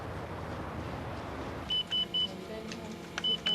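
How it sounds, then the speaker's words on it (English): A van's alarm gives a series of short, evenly spaced electronic beeps in small groups, heard over a steady outdoor rumble of traffic and movement. "We've got an alarm."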